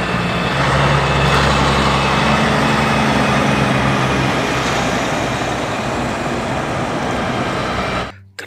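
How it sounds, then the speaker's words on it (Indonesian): Two container trucks rumble past on a road, their heavy engines droning loud and steady with broadband traffic noise, then the sound cuts off abruptly near the end. "dua buah mobil truk kontainer"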